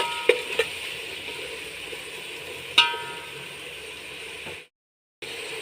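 Four ripe country tomatoes sautéing in a pan, a soft continuous sizzle with a few sharp clicks of utensil against metal near the start, then a brief full silence before the sizzle returns.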